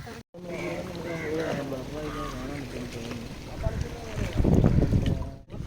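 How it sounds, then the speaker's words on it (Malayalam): A speedboat ride on open water, with a steady whoosh of wind and water rushing past the microphone and rough bumps building toward the end, while people chatter close by. "ഞങ്ങൾ ഫൈനലി ബോട്ടിൽ കയറിയിരിക്കുന്നു"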